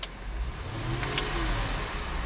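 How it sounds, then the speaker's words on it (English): A 2008 Mercedes-Benz ML550 4Matic SUV with about 76,000 miles runs steadily, its engine rising into a rev and holding a raised, even drone throughout the short stretch, close and fairly quiet with no talk. "I'm going to rev the engine."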